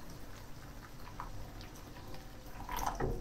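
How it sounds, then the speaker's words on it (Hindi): Water poured into a pot of green chilies for peas rice, a soft running, splashing flow with a few drips and a louder gush near the end, heard alone at close range. "अब इसमें पानी ऐड कर रही हूं मैं।"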